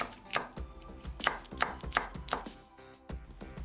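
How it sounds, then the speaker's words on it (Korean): A knife slices a green chili pepper on a cutting board for a tangy water dropwort and squid salad, giving a quick close series of about eight crisp chopping taps with no talking. "청고추 한 개를 슬라이스 해주세요."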